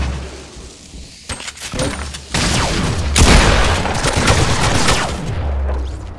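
Grenades explode repeatedly in a video game: a dense run of loud bursts and crackling blasts with gunfire-like bangs, building to a heavy continuous barrage with no one talking.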